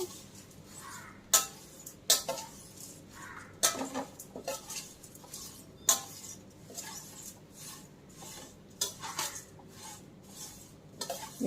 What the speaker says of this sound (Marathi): आपण हे पोहे हलवायचे आहेत कारण जर पातळ बुडाची कढई असेल तर ते करपतील